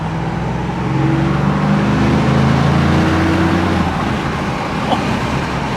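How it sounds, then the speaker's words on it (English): From inside the cab of a 2025 Ford F-150 Tremor, its V8 engine rises in pitch as the truck accelerates gently, a low rumble over steady road noise, with no voices. "hear the sound of that V8 as we get on throttle just a little bit"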